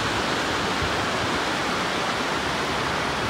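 Steady broadband rush of a river flowing below a mountain hill on the Alpine Loop near Engineer Pass, heard from above as a continuous, even roar with no talk.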